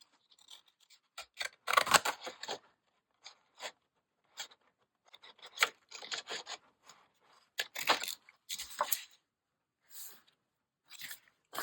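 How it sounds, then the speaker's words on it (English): Sharp snipping and crunching cuts from scissors, arriving in irregular bursts with short pauses between, close and fairly quiet. "I found these scissors today."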